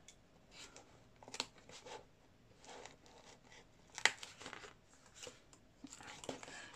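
Scissors cut paper in quiet, uneven bursts of snipping and crinkling at close range, with soft handling noises between the cuts.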